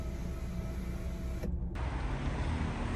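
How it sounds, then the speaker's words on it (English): A Nissan Qashqai's electric sunblind opens with a quiet, steady motor whir that drops out briefly midway before resuming. "there's a sunblind that will open all the way to the back of the rear seats"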